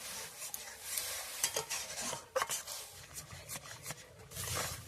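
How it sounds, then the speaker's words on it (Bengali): A utensil stirring mango pulp mixed with water in a pot, quiet irregular scraping and swishing strokes with a few soft metallic knocks, close and faint. "ভালো করে মিশিয়ে নেব।"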